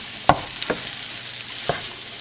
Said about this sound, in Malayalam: നമുക്ക് റൊട്ടിയിൽ അല്ലെങ്കിൽ ബ്രെഡിൽ നമുക്ക് പൊതിഞ്ഞ് എണ്ണയിലിട്ട് വറുത്തെടുക്കാം